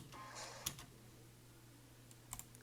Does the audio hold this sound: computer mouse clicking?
yes